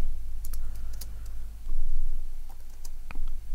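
Keys clatter on a computer keyboard while code is written for an AVR microcontroller, scattered light clicks over a steady low hum with no talk.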